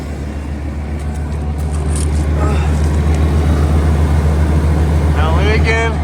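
EFI Ford F150 pickup engine running with a new gas tank after a fix, a loud steady low idle rumble continuing throughout while a person talks briefly near the end.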